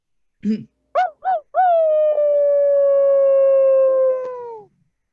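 A person imitates a wolf howl aloud, starting with a few short rising yips and then holding one long, steady, loud howl that fades out at the end, close to the listener.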